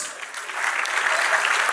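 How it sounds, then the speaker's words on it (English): An audience at a personality contest claps for the contestants, steady close applause that swells slightly and holds without talking. "So big round of applause"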